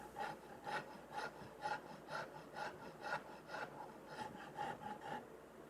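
Saw rasp drawn repeatedly across a wooden custom guitar body to shape a comfort carve, a rhythmic series of rough scraping strokes at roughly two per second, close and fairly quiet with no talk.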